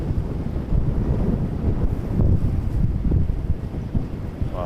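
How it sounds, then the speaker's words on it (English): Strong, gusty wind buffets the microphone outdoors at Vancouver International Airport, a steady loud roar and rumble with surges and no speech. "The winds are picking up here."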